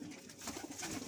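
Soft, low pigeon cooing drifts along under a hissy background, steady and fairly faint.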